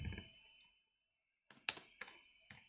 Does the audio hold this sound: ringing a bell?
no